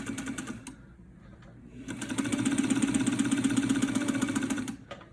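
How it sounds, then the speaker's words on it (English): A 1947 Singer 66 sewing machine runs steadily, stitching a long stitch through fabric with a fast, even mechanical chatter. It starts briefly, pauses, then runs louder and continuous for a few seconds before stopping. "So let's see it stitching a long stitch."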